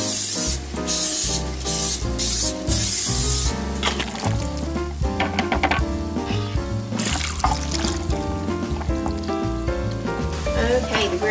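Several short hissing bursts of cooking spray into a 9x13 casserole dish come in quick succession, followed by the sizzle of frying ground beef and kitchen clatter nearby.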